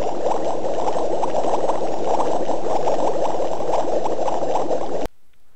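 Steady bubbling from a Thaumcraft machine in Minecraft, a dense, continuous burble at even loudness for about five seconds before cutting off abruptly to near silence.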